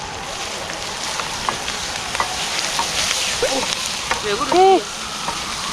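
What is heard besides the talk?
meat stir-frying over campfire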